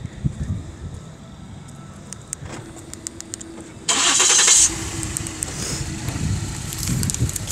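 A 2017 Ford Explorer Sport starts by remote start, the engine catching with a loud burst that drops into a steady, close idle, with a few faint clicks before and no talking.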